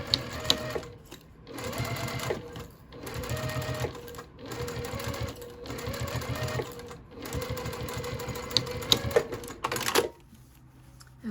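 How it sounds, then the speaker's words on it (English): A sewing machine stitches the side seam of a small boxy fabric pouch in several fast, whirring bursts separated by brief pauses, loud and close, before stopping near the end. "now we can go ahead and sew that side"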